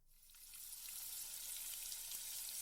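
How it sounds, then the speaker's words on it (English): Food sears in olive oil in a hot pan, a steady loud sizzle and crackle that builds within the first half second and holds evenly throughout, with no talking. "those should be seared in olive oil for the first bit"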